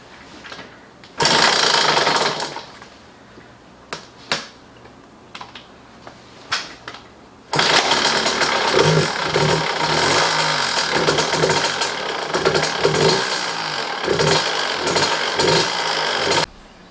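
A KTM dirt bike engine struggles to run with the clutch and brake held, giving a loud, rough, uneven mechanical clatter in two long bursts separated by quieter intermittent ticks.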